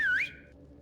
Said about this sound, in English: Oh, that's a whistle.